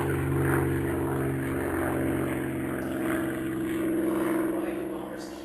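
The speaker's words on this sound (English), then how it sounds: "bombers keep passing over our heads" Bomber aircraft fly overhead with a continuous droning engine roar that stays loud and steady throughout, with a faint high whine riding above it.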